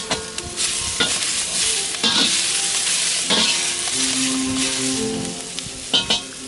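Beans stir-fried in a wok over a roaring fire on a Big Green Egg, with loud continuous sizzling, crackling pops and scraping stirs close by.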